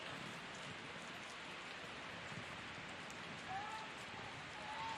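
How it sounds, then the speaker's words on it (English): Steady rain falls on an outdoor women's college soccer match between Binghamton and UMBC, a soft, even hiss of drops heard alone at a distance, with a faint whistle-like tone near the end. "the rain has picked up"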